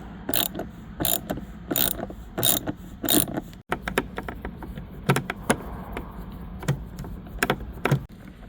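Black Phillips screws being backed out of a Chevrolet Traverse front passenger door panel, with repeated close ratcheting clicks and mechanical turning noises in short bursts, no talking.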